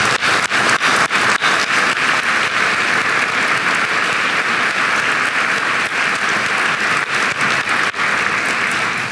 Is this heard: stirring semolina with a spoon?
no